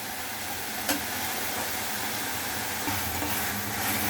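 Ingredients for a crab gravy sizzle steadily in a pan, a continuous hissing fry with a few soft stirring clinks and scrapes, close and even throughout.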